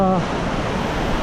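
Steady roaring rush of falling water fills the clip, a loud continuous wash with a brief voice at the very start.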